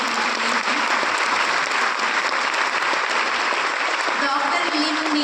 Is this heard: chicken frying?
no